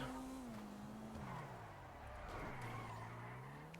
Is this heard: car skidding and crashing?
yes